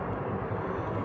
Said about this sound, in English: you've got planes right over yonder